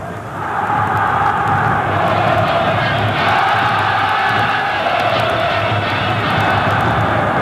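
Vasco football fans roar and cheer in the stadium during the Copa do Brasil 2006 final first leg against Flamengo, a loud, sustained crowd swell filling the whole span.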